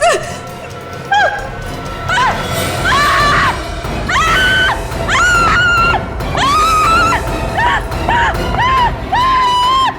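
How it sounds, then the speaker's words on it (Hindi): Shrill panicked screaming from a woman, heard in a crime drama scene: a series of piercing, wavering shrieks in repeated bursts over a noisy, busy background. "इतना चिल्ला क्यों रही हो?"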